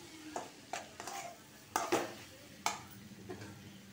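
Cabbage stir-fried in a pan for cabbage rice, heard as a few sharp scraping and clinking strokes of a spatula against the pan over a faint sizzle, close and alone.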